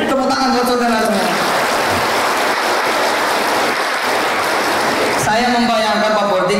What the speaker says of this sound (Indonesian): Tepuk tangan buat saudara semua